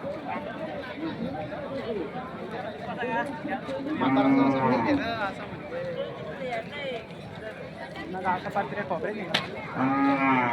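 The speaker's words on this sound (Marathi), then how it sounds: "खिल्लारी बैल बघा शर्यतीला प्रत्येक बैल खिल्लारी बघा" Herd of Khillari bulls gathered at a bullock-cart race, with several loud lowing moos over a busy crowd murmur and people talking close by, plus some hoof and movement noise.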